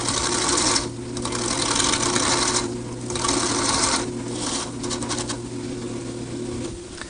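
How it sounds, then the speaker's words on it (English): A wood lathe spins steadily as a parting tool cuts a wooden cylinder for an outdoor planter, giving a constant loud rasping hiss with periodic dips where the tool eases off the workpiece. "Now I'm going to turn to this parting tool just to finish making the cylinder up to my score line."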